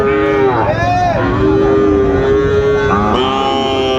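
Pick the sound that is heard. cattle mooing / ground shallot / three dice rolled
cattle mooing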